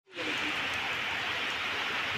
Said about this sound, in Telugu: పూర్తిగా వర్షం పడుతుంది ఇప్పుడైతే.